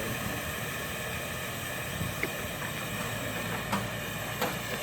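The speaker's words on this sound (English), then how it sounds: "the tail end of starting up this 1911 Stanley steamer" A 1911 Stanley Model 62 steam car runs at a fall car meet, giving a steady broadband hiss of steam and burner roar with a few faint clicks and knocks, no talk.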